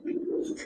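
A pigeon in a loft gives a single short, soft coo lasting under a second, close by and fairly quiet.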